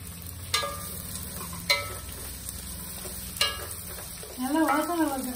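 Onions fry with a soft hiss in a pan for a Hyderabadi-style vegetable dum biryani, broken by a few sharp utensil clinks, before a voice speaks briefly at the end.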